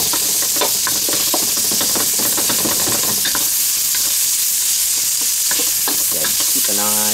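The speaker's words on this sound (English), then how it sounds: "keep an eye on the stirring. When you cook on a wok, high heat" Spam and sweet corn stir-fry in a wok over high heat, giving a loud continuous sizzle broken by repeated scraping and clanking strokes of a spatula, close up, with a faint engine-like hum beneath.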